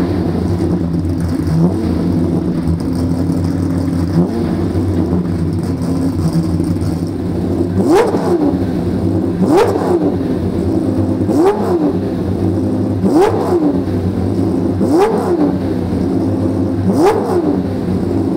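A Jaguar XJR15 with a V12 engine pulls along a road, its loud engine drone rising in a run of repeated revving surges, about six sharp climbs spaced evenly through the second half, with no voices.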